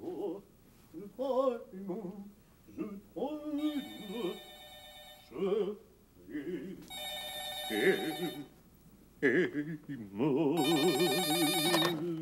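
A telephone rings in repeated bursts of bright trilling, heard three times between and under ongoing French conversation in an indoor drama scene.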